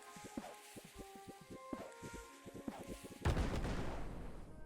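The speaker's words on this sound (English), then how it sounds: "Once you get about 4 or 5 of the crude bombs, it's finally enough damage to break through the maze walls" Crude bombs in the video game Core Keeper detonate against maze walls: a quick string of sharp, thudding blasts, then one louder, longer explosion that rumbles out to the end.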